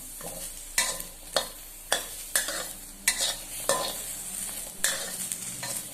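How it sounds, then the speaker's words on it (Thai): Onion, chili and garlic stir-fry in a hot pan, with a bright continuous sizzle broken by about nine sharp, evenly spaced scrapes of a spatula, close and loud with no talking. "แล้วก็เอา หัวหอมพริกกระเทียม มาขัวก่อนด้วยครับพี่น้อง"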